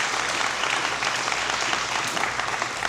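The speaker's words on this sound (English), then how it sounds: "So please, another round of applause for our support here tonight" An audience at an adult basic education graduation ceremony claps in dense, sustained applause that fills the hall, with a faint voice beneath it.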